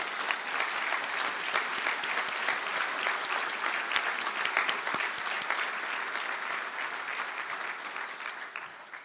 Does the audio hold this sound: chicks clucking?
no